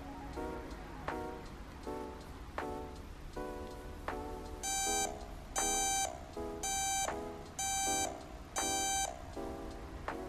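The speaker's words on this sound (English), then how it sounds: "So after 2 hours, the alarm should go off for her next feeding." A Victure BM45 baby monitor sounds its feeding timer alarm in a steady run of sharp electronic beeps. About six close, loud bursts repeat roughly once a second over a faint patter of other ticks.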